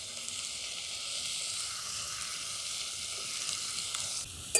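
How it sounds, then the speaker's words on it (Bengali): Eggplant and potato pieces with salt and turmeric fry in a pan while being stirred, giving a steady, close hiss of sizzling oil with faint scraping and a small knock at the end. "সব কিছু দিয়ে ভালো করে নাড়াচাড়া করে নিচ্ছি। এই নুন হলুদটা ভালো করে মিশিয়ে দিয়েছি বেগুন আর আলুর সাথে।"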